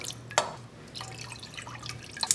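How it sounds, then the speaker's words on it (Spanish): Two cups of water go into a stainless steel or Teflon pot with sugar for a cake syrup, heard as a sharp splash followed by light dripping and trickling, close and fairly quiet. "Después vamos a poner nuestras dos tazas de agua"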